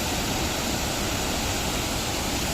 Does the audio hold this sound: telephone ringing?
no